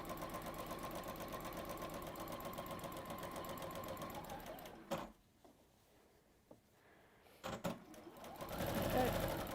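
A sewing machine stitches fabric with a fast, even mechanical whir, stops briefly amid a few handling knocks, then starts again, while a person talks softly nearby.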